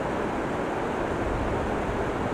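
The Citambur waterfall in West Java rushes with a steady broadband roar of falling water, loud and unbroken from start to finish, with no voices.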